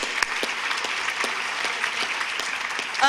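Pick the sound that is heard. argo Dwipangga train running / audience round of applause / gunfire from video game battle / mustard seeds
audience round of applause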